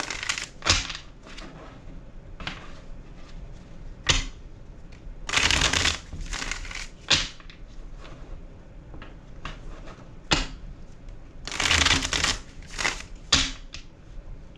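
Tarot cards being shuffled in repeated bursts of riffling and sliding, close and fairly loud, with brief soft card taps between the bursts.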